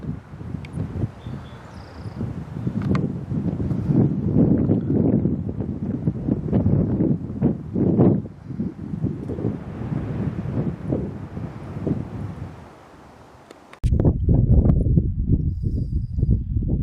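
Strong wind gusting outdoors at a ravine on a sagebrush hillside, roaring and buffeting the microphone steadily, easing briefly near the end before slamming back in at full force.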